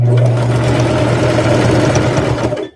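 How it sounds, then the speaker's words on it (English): A sewing machine hums loudly and continuously at close range while sewing a rag quilt, then stops abruptly. "I'm just sewing."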